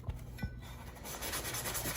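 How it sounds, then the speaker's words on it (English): Metal being hand-polished with 600-grit abrasive toward a mirror finish, soft close rubbing strokes that grow steadier and louder after a few brief scrapes. "now we're gonna move on to the 600 polishing. And this should give it a nice mirrored finish on this metal."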